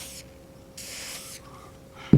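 Gun oil sprays from a can onto a knife blade in two short hissing bursts, close and alone, ending with a brief handling thump.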